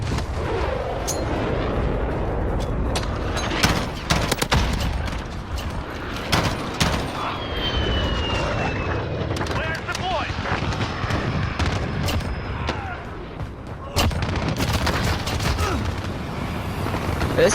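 White phosphorus airstrike explosions in Call of Duty Modern Warfare: repeated loud booms and sharp gunfire cracks in dense bursts, with a whistling streak overhead and game radio voices talking over the barrage.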